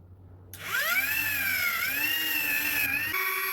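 Small electric flywheels in a modified Nerf blaster spin up from rest with a rising whine, hold a steady high-pitched hum for a few seconds, then drop in pitch as they slow, close and loud with no voices.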